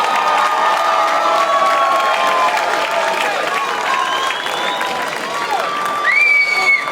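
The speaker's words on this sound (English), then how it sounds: "ladies and gentlemen, a big round of applause for both these men after 5 excellent rounds of action" A boxing arena crowd applauds and cheers both fighters after five rounds, with sustained loud clapping, shouts and whoops filling the hall without pause.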